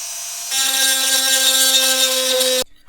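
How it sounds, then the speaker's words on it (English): A Dremel rotary tool grinding to widen a part on a DeLorean scale model, a steady high whine that rises in pitch as the bit bites, running about two seconds before cutting off abruptly, close and loud. "when I say take a file to it, I mean take a Dremel, make short work of this"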